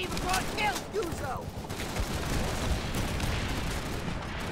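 Heavy machine gun fire mixed with a rolling fusillade in a Call of Duty 3 battle at Chambois, dense bursts and scattered shots continuing throughout, with a few whistling tones early on.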